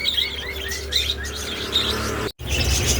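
A pair of TCB parakeets, one blue and one Lutino, chirp and tweet in quick, repeated high calls close by, over a low steady background hum with a brief dropout near the end.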